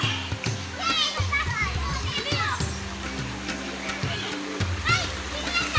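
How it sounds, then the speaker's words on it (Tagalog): Children and adults bathing in clear, cold river water at Sitio Bukatot, with repeated splashes and lively children's shouts and chatter over a steady flowing-water rush. "Ayun po, ngayon po naliligo."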